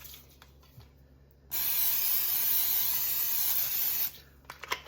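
A can of cooking spray hisses over chicken strips before they go back in to crisp, one steady burst of about two and a half seconds, with faint kitchen clatter before and after.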